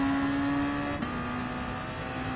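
Race car at full throttle on a Sardegna circuit lap, engine droning steadily with a strong sustained tone, briefly dipping mid-clip before pulling hard again, loud and close throughout.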